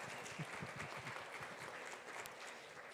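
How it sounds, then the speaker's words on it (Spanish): Faint audience applause in a conference hall at a general assembly, steady broadband clapping lasting a few seconds with no voices over it. "vamos a aplaudir, claro"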